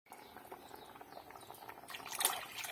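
Water poured into a pressure cooker while making mutton biryani, a faint, continuous close trickle and splash that grows louder and brighter toward the end.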